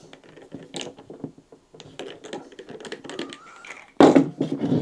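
Battery cap of an Olight Valkyrie PL 3 S weapon light being unscrewed by hand, a series of small close clicks and faint scraping threads, getting louder with a sharper clatter near the end.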